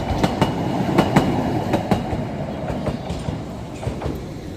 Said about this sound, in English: The cute little tram that runs between Minowa and Waseda.